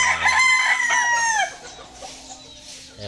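A backyard rooster kept during lockdown gives one loud, close crow with a long, drawn-out call that falls in pitch at the end, followed by quieter ambient sounds.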